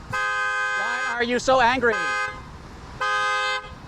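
A car horn sounds in long steady blasts, one sustained honk, a pause, then another, loud and close, while a voice speaks agitatedly over the middle stretch between them.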